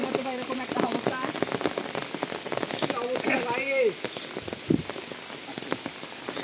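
Rain falls steadily beside a rural pond, a constant close patter that runs the whole time. Voices talk intermittently over the downpour.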